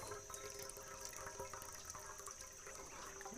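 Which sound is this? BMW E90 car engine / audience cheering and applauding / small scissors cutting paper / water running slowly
water running slowly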